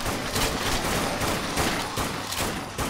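Rapid, dense gunfire from the zombie shooter video game Dead Nation, a near-constant barrage of overlapping shots filling the whole stretch at steady loudness with no talk.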